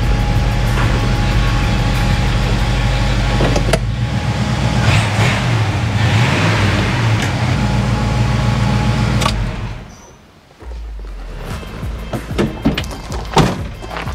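A 1976 Pontiac Trans Am fitted with Holley Sniper EFI rumbles steadily with a loud, low engine drone, then the sound drops sharply near the end before resuming with some clunks and rattles.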